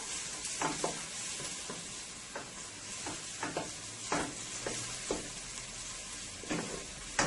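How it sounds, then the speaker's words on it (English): Garlic toasts in hot oil for a spicy Guyanese-style chicken liver and gizzard dish, producing a steady, quiet sizzle with scattered pops and stirring scrapes throughout, no talking. "I don't want to burn my garlic, I just want to toast it a little into the oil."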